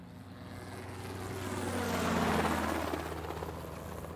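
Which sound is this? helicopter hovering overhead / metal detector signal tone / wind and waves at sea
helicopter hovering overhead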